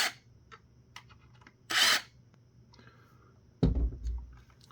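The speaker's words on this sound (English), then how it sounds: "Do have some #1 Phillips screws holding on the front panel though, so we're just gonna unscrew those real quick" A #1 Phillips screwdriver loosens small screws from the front panel of a Sabine True Mobility SW71-R wireless mic receiver, giving sparse close clicks and scrapes, one sharp rasp and a final heavier clunk over near silence.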